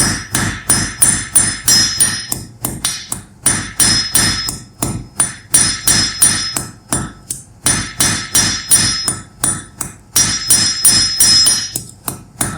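Hammer forging the loop of a Mjolnir pendant: loud, close metallic hammer blows on an anvil in rapid rhythmic bursts, each strike ringing briefly, with short pauses between runs of blows.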